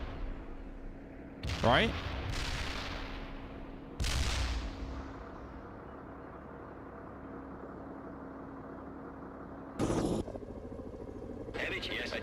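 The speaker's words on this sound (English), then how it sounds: "Incoming fire!" Incoming artillery and gunfire in the real-time strategy game World in Conflict: several sharp blasts and whooshing impacts land over a constant low engine rumble, with one voice speaking briefly.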